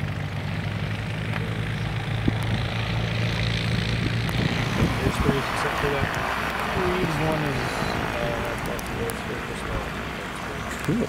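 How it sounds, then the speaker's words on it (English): A Lockheed Electra's propeller engines run up on the ground at an airport, a steady loud drone filling the scene while people talk over it nearby. "they were just getting it ready to do an engine run"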